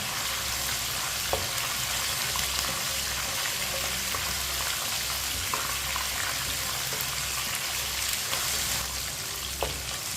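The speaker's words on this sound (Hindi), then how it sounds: "1 मिनट के लिए पका लेंगे लहसुन को।" Garlic cloves fry in a hot pan with a continuous, even sizzle, occasional light stirring clicks, and no one speaking.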